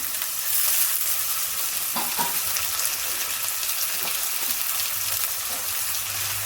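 Chopped carrots, beans and tomato sizzle steadily in hot oil for shavige upma, with a spoon scraping and stirring through the pan in irregular strokes close by.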